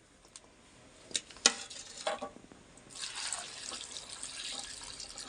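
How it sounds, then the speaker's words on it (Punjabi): Round slices of potato for homemade chips are rinsed by hand in water, with sharp splashes and clinks at first, then a steady sloshing and rubbing as the water is stirred, close and fairly quiet. "ਹੁਣ ਇਹਨਾਂ ਨੂੰ ਆਪਾਂ ਚੰਗੀ ਤਰ੍ਹਾਂ ਧੋ ਲੈਨੇ ਆ ਦੋ ਤਿੰਨ ਪਾਣੀ ਕੱਢ ਲਵਾਂਗੇ ਇਹਨਾਂ ਦੇ"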